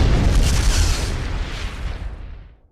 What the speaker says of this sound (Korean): 이 폭발음 들었죠?